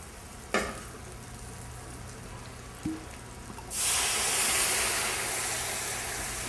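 Egg-coated deer meat frying in hot oil gives a steady, loud sizzling hiss that swells suddenly partway through and holds, after a couple of brief knocks at the start.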